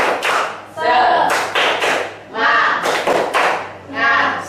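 A standing group of children performs a rhythmic spirit clap, bursts of sharp hand claps in a repeating pattern alternating with loud shouted chants from the group.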